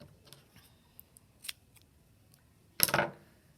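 Scissors cut through a strip of tape during a tape print art project, with a few soft snips and handling clicks followed by one louder, longer cut near the end, close and quiet.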